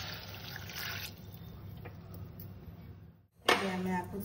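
Water is poured into a pan while pineapple rasam is being made, a steady soft trickling fill at close range that stops briefly before a louder splash, with speech nearby.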